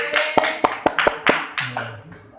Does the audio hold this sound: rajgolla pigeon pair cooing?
no